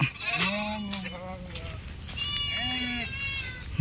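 Sheep bleat in a grassy village field, several drawn-out calls close by, with another animal answering over faint background noise.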